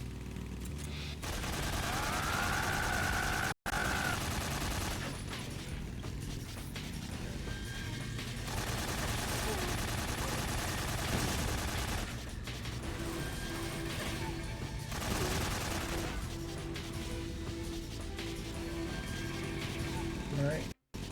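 Gunfire in the Metal Gear Solid 3 video game as shots hit a log: repeated cracking bursts and impacts mixed into a busy, continuous game soundscape with a voice speaking over it.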